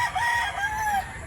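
A Cebu gamefowl rooster crows once, close and loud, in a drawn-out wavering call of a little over a second.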